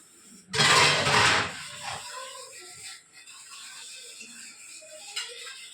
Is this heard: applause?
no